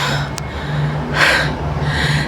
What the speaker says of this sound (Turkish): Nefes nefese kaldım.